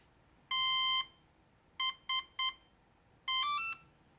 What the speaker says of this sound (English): we'll wait again until it beeps once